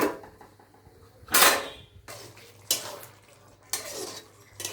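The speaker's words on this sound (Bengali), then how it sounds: "ঢাকাটা দিয়ে নিন" A metal lid clanks onto a cooking pot of doi soyabin curry in a kitchen, with three sharp clattering knocks spaced a second or so apart over a faint steady hum.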